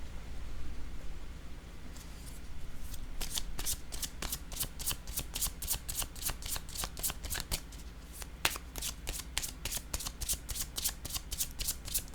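A deck of playing cards riffle-shuffled over and over, crisp rapid flutters repeating in steady bursts at close range against a soft background hiss.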